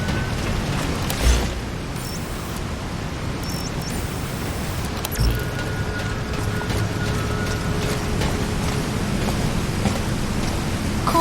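Rain falls in Metal Gear Solid V as a steady, dense hiss of pouring water that stays even throughout, broken by a couple of soft low thumps and faint mechanical clicks.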